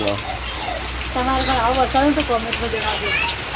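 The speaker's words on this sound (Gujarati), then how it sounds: "કેવો વરસાદ ચાલુ છે." Steady rain hisses in the background while a person talks over it, the downpour constant throughout.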